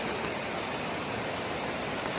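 Steady, dense rain hisses down without pause on a trek in Kashmir, a constant wash of falling water with no voices.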